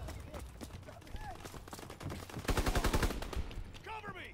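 Gunfire rattles in a multiplayer Call of Duty WWII Domination match, with scattered shots building into a fast automatic burst partway through, mixed with game sound effects and a player talking over it.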